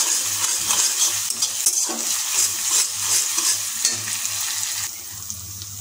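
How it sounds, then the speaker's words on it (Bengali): A spatula stirs ginger-garlic paste frying in a pan for chicken ghugni, giving a continuous close sizzle with repeated scraping strokes and occasional metallic taps. "আমরা এটাকে খুন্তিতে বেশ কিছুক্ষণ নাড়িয়ে নেব।"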